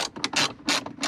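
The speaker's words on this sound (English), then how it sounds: "So I'm gonna need a 10 mil on a socket." A ratchet with a 10 mm socket on a long magnetic extension works a bolt loose while removing a car stereo from a Toyota Altezza, giving close, loud bursts of rapid clicking that stop and start in several quick strokes.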